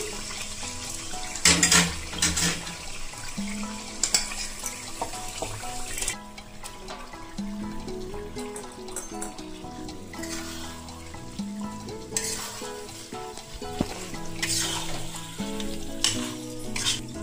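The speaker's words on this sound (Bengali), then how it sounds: "মশলা থেকে সুন্দর তেল ছেড়ে দিয়েছে, এখন আমি এঁচোড়গুলো দিয়ে দেবো।" Young jackfruit sizzles and fries in spiced oil in a pan. A steady, close crackle runs throughout, with stirring clatter in places, under background music.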